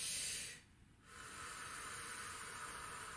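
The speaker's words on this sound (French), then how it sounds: "On va respirer en largeur." Deep breathing during a singing lesson exercise: a loud, close, airy hiss of breath that breaks off briefly, then resumes as a long steady exhale.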